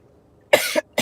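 A person coughs twice, close to the microphone: a sharp, harsh burst followed by a shorter second cough after a short pause, with quiet room tone before.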